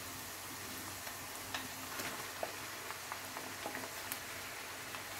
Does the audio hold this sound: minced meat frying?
yes